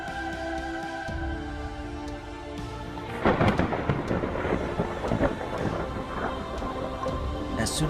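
A low rumble of thunder in the video game Murder Diaries 3: Santa's Trail of Blood rolls in over steady rain, growing louder partway through and continuing with a dense patter of drops.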